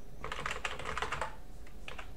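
Quick, close keystrokes patter on a computer keyboard in a burst, then a brief pause and a few more taps, as a Linux command is entered while installing Manjaro.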